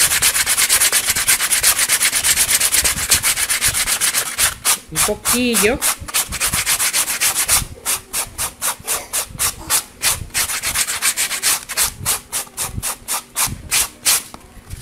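Small wooden craft pieces are sanded by hand with sandpaper, first in a steady continuous rasp, then in quick rhythmic back-and-forth strokes, close and loud, with a brief spoken remark partway through.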